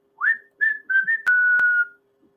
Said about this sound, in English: every time we get a strikeout, we're gonna hear the whistle